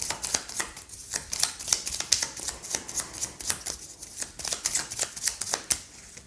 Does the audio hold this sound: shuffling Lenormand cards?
yes